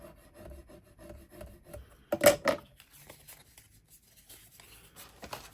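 Trimmed cardstock is burnished for a handmade card folio, a brief pair of firm rubbing strokes near the middle against a quiet background of faint handling noise, close up with no voice.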